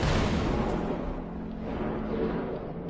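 A photon cannon fires in the video game No Man's Sky, a loud, broad blast of rumbling noise that fades gradually over about three seconds.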